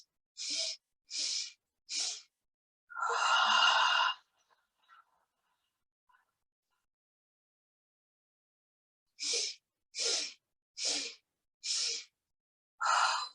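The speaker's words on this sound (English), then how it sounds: "you'll be doing 4 sniffs to inhale, 1 long ujjayi exhale through the mouth" Breathing exercise: four sharp, evenly spaced nasal sniffs, then one long airy exhale through the mouth and a silent pause before the next round of sniffs begins, all close and clear with no talking.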